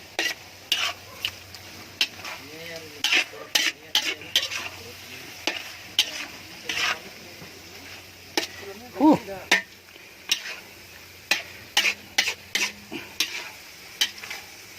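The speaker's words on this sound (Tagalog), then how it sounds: "Kunting halo hanggang sa" Pieces of a huge eel, around nine kilos, cooking down in a pan until dry, with loud, repeated scraping and clanking strokes of stirring over a steady sizzle, close up; a few brief voice sounds come and go.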